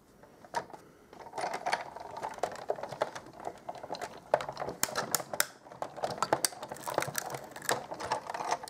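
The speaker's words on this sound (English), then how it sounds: "then I'm going to pop these through the big shot" A Big Shot die-cutting machine cranks stitched-shape framelits through, giving a run of close, irregular clicks and ratcheting taps with no voices.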